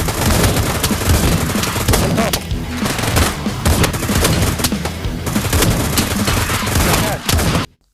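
Pump-action shotgun blasts in the zombie VR shooter Pavlov Shack, a dense, loud run of booming shots and gunfire with barely a break, ending abruptly.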